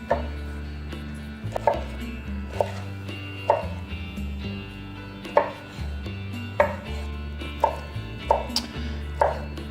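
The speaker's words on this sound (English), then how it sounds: "The reason why we want to cut them up into smaller bits is so that they dehydrate faster" Vegetables being chopped into small bite-sized pieces on a board for dehydrating, in kitchen prep for backcountry cooking; steady rhythmic knife thuds, about a dozen sharp chops, close and clear over a low kitchen hum.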